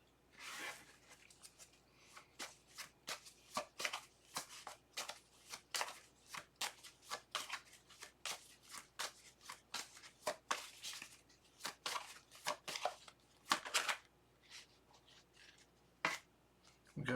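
Tarot cards are shuffled close up in a quiet room, giving a long series of soft riffling bursts and taps in an uneven rhythm, with no talking.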